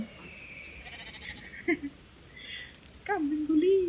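Two quavering goat bleats in the video game Brothers: A Tale of Two Sons, a brief one midway and a louder, longer one at the end, over a faint background hiss with no talk.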